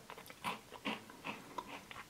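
Close, quiet biting and chewing of a crunchy frosted strawberry Pop-Tart: several crisp crunches in an irregular rhythm, with no talk.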